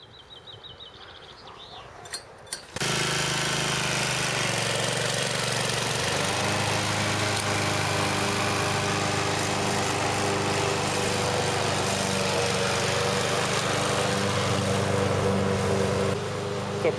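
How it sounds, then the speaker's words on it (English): A petrol lawn mower engine catches after a few quiet seconds and then runs loud and steady, a continuous close droning roar with faint birds in the background. "Wait, the mower's off. You got to turn it on."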